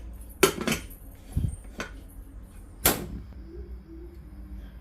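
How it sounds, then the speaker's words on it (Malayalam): A pressure cooker lid is fitted and locked shut while egg aviyal cooks. Three or four sharp metallic clanks ring out close by, spaced irregularly with quiet gaps between them, and no one speaks. "ഇനി നമുക്ക് കുക്കർ മൂടി വെച്ച് ഒരു വിസിൽ അടുപ്പിച്ചെടുക്കാം."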